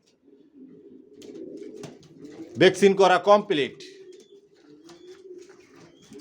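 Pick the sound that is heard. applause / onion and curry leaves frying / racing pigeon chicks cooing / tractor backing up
racing pigeon chicks cooing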